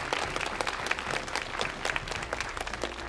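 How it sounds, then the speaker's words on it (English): Audience at a school quiz championship applauding, a sustained burst of dense clapping throughout, fairly loud and close, with no speech over it. "Big round of applause."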